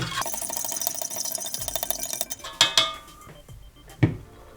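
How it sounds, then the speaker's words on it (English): Grape Kool-Aid stirred in a container, with a rapid clinking rattle of a utensil against the sides that then slows to a few louder knocks before going quiet. "Let's give it a stir."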